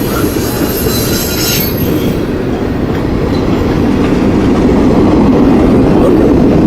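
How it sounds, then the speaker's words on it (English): A train rumbles steadily past nearby, a heavy continuous roar of wheels on track with faint metallic squeal. "So that wasn't a very long train"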